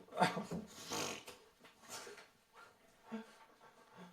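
A puppy pants and whimpers close by in short, uneven bursts of breathy huffs and small whines, with quiet gaps between them.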